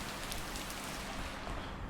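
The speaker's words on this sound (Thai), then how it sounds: "เอ้ย ฝนตกอีกแล้วอะ" Steady rain falls in an even, continuous hiss with no breaks and no voices.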